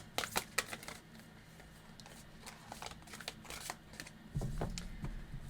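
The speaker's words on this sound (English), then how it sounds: "I just can't seem to get one card to shuffle out" A deck of tarot cards is shuffled by hand in quick riffling bursts, crisp papery flutters and slaps close by and fairly quiet, with a slightly louder thump near the end.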